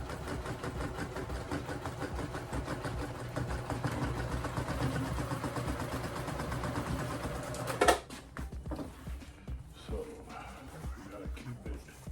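A sewing machine driven by a foot pedal, used for reupholstering a chair, runs in a steady mechanical hum for about eight seconds and then stops, leaving quieter shuffling handling sounds.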